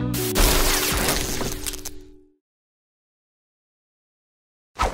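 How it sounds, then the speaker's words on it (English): Glass shatters in one loud crash followed by a spray of tinkling fragments that fades out over about two seconds into silence, with a brief sharp burst of sound at the very end. "The sound of shattering glass."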